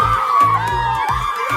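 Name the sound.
graduate shouting at licensure exam results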